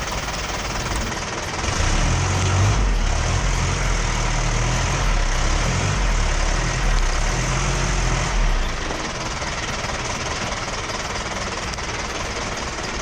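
A 4WD jeep engine labours on a narrow, dangerous mountain track near Ghanool, Balakot, reversing and turning with a loud, close, rough knocking idle that swells for several seconds and then drops back to a steady rumble.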